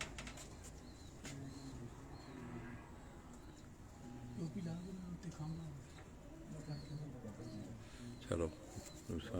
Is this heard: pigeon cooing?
yes